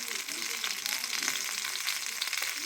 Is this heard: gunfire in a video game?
no